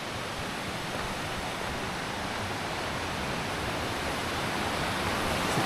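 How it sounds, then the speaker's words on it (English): Silver Creek rushes along a mountain trail near Baker Lake, a steady, dense wash of flowing water close by that holds even and unbroken from start to finish with no voices. "This area is Silver Creek."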